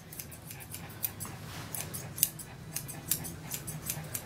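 Scissors trimming a Maltese dog's hair during grooming, heard as quiet, crisp snips at an irregular rhythm, some sharper than others, close and fairly faint with no talking.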